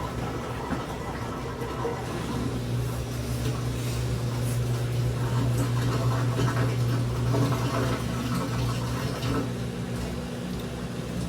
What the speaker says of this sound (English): Draining a lot of water here.